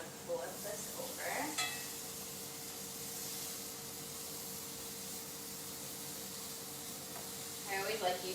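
Steak fajita strips and vegetables sizzling in a hot cast iron skillet, a steady soft hiss with brief clinks and stirring noises at the start and end, while someone talks over it.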